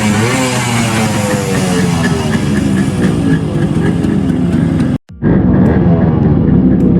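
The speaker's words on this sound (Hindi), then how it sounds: "कोल्ड स्टार्ट में आवाज़ सुन रहे दोनों की" Fully restored Yamaha RX100 two-stroke motorcycles idle after a cold start, a loud, steady, close engine drone that cuts out briefly near the end before picking up again.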